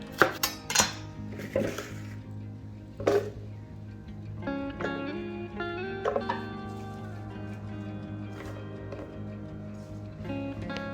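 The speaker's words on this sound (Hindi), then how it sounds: "तो चलिए मिर्च को काट लेते हैं।" Knife tapping and chopping green chillies on a board, with clinks of utensils and pans nearby, close and moderately quiet.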